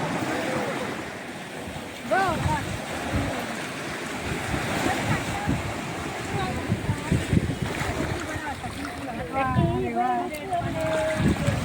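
Sea waves wash steadily against the Konkan coast at Redi, a broad continuous surf roar with wind buffeting the microphone, while several people talk over it throughout.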